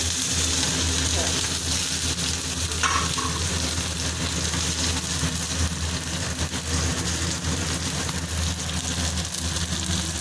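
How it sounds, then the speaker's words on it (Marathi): Onion and curry leaves frying in hot oil with green chillies in a home kitchen for rava dosa, a steady broadband sizzle running throughout under a low background hum, with faint speech at moments. "आपलं तेल बघा किती छान गरम झालं आणि कांदा टाकून घेते"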